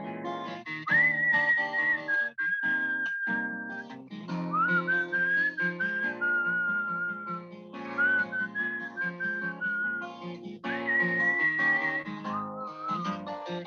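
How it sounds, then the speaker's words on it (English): A person whistles a tune alone, clear and close, with sustained melodic phrases broken by short pauses for breath. "More mediocre whistling."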